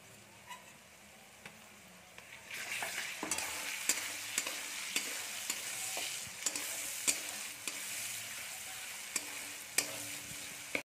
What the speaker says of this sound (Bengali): এবার এর মধ্যে দিয়ে দেবো টমেটো কুচি